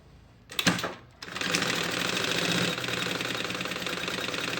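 A sewing machine runs a fast, steady stitch to secure a pocket onto a lunch bag panel, starting after a short stop-and-go burst and then humming continuously and close by.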